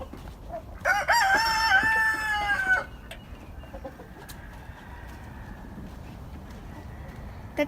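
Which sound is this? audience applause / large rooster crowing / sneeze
large rooster crowing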